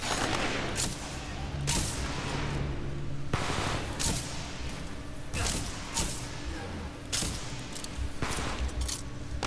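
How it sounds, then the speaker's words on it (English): Enemy gunfire in Titanfall 2, a steady barrage of sharp shots and impacts repeating about every second over constant battlefield rumble, loud and close. "Ooh, getting shot at."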